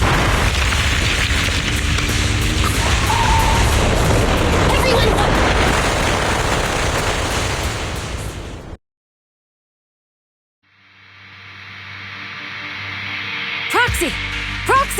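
Explosive impact and deep rumbling from a Zenless Zone Zero story quest: a long, loud, dense roar that cuts abruptly to silence, then a softer rumbling swell returns with a voice speaking near the end.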